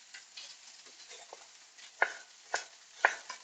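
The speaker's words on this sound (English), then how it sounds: "keep your fingers out the way when you're chopping through the tomatoes" A sharp knife chops through tomatoes on a board in a live cooking demonstration, giving a few distinct, close cuts spaced about half a second apart over soft handling noise, with no talking.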